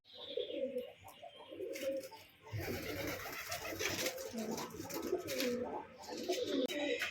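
Pigeons coo repeatedly inside a loft, soft rolling calls overlapping in bursts, with a rustle and shuffling noise in the middle and brief higher chirps mixed in.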